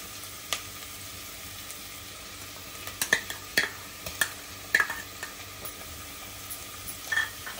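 Ginger garlic paste sautéed with onions in a pan, a quiet steady sizzle broken by scattered clicks and scrapes of stirring, with no voices.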